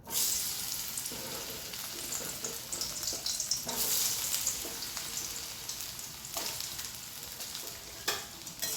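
Potatoes fry in a hot kadai with a steady, close crackling sizzle that persists throughout, broken by a few brief stirring knocks and clinks.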